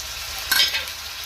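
Tomatoes frying with browned onions and ginger garlic paste in a pan for an egg omelette curry, a soft steady sizzle with a brief louder stir near the middle, close and alone.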